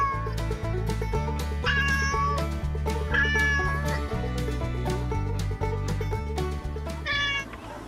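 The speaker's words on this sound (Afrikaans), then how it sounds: "Hierdie is 'n kat." A cat meows a few times in a farm-animal lesson for children, the calls rising over continuous background music.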